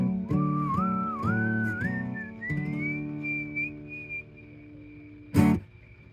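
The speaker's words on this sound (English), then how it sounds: "I love how you got the whistle" Someone whistles a gliding tune that rises in pitch with wavering, sliding notes, giving it the eerie quality of a musical saw. It is close and clear, and a short burst of noise cuts in near the end.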